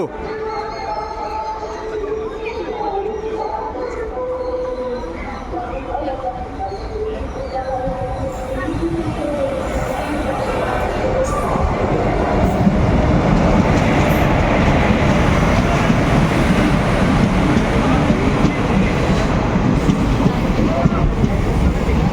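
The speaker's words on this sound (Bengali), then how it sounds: "নতুন ট্রেন ইনোগ্রেশন স্পেশাল এখন এই মুহূর্তে বহরমপুর কোর্ট রেল স্টেশন ঢুকছে" A new passenger train running from Krishnanagar City to Azimganj pulls into Berhampore Court railway station, a low rumble and rattle of wheels building steadily louder over the station's background noise, with voices in the background.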